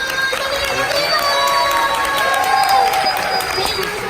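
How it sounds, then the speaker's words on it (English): A studio audience cheers, whoops and applauds for the host of a horror makeup show, a dense, steady roar of voices and clapping with shouted calls rising over it throughout. "how about a nice round of applause for the host of today's show, Alex Ross"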